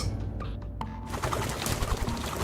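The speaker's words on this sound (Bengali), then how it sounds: "এ হলো অজস্র পাখির সমবেত সঙ্গীত" In a night-time audio drama, a dense chorus of countless birds swells into a continuous chattering, cooing wash that fills the scene.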